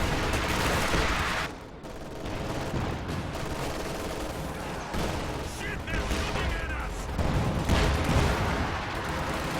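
A Sherman tank firing on Volksgrenadier infantry in Company of Heroes 2, heavy overlapping gunfire and booming shots in a dense battle din that continues without a break, with voices talking over it.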